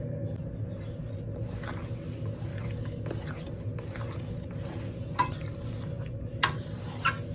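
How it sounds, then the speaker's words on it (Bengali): Fresh chhana (cottage cheese) for sandesh is stirred in a pan over heat with a spatula, giving soft, steady scraping and faint sizzling, with a few sharper utensil knocks near the end. "এখন খুব সুন্দর করে জাল দিতে হবে, কারণ আর নাড়তে হবে বেশি বেশি করে"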